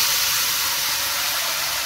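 Papaya pieces hit hot oil and sizzle in a steady, bright hiss that stays loud and unbroken throughout, with no talking.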